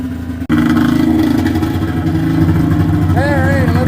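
An older snowmobile engine idles while warming up, a loud steady close rumble that starts abruptly after a brief dip, with a voice speaking near the end.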